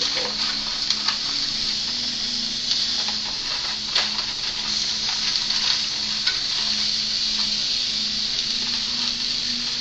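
Ground beef and onion fry in a pan for a beef and spinach Greek pie, a steady close sizzle with scattered scraping taps as the meat is broken up, with no talking.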